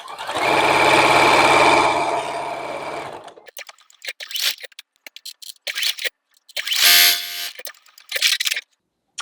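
A sewing machine stitches a quilt block seam with a loud, steady whirring run, followed by scattered clicks and a second short stitching burst.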